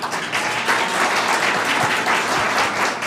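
Steady applause fills a school board of education meeting, a dense, even wash of many hands clapping at once, sustained at a consistent level for several seconds with no voices breaking through.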